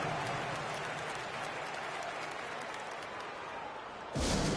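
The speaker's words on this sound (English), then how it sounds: "Nice round of applause for your 76ers" Arena crowd applause in a basketball video game rolls on continuously at moderate volume, then swells louder near the end.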